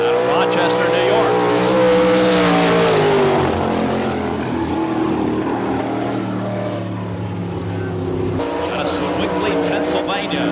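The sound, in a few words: race car engine passing on dirt track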